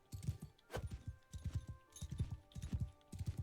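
A horse gallops in the video game Mount and Blade II: Bannerlord, its hoofbeats a quick, even clip-clop that repeats in close groups and stays fairly faint.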